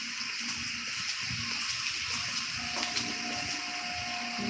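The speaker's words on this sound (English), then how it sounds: "That's the raindrops hitting the water." Steady drizzle patters onto open water, a dense, even hiss of small drops with soft splashes throughout, close and continuous, with no voices.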